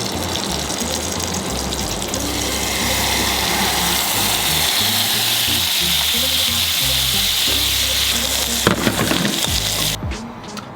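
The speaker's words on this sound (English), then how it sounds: "I'm going to dump on a little bit of this glaze to try and ruin the pan" Whole trout sizzles and fries loudly in a hot pan as glaze is poured in, a steady dense crackle and hiss with a brief liquid gush near the end before the sizzle cuts off.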